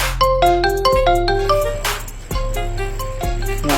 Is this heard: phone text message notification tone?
yes